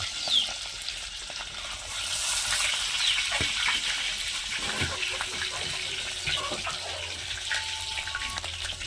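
Mustard seeds, cumin and curry leaves hit hot oil in a home kitchen, bursting into a loud, dense, continuous sizzle with crackles that holds steady throughout.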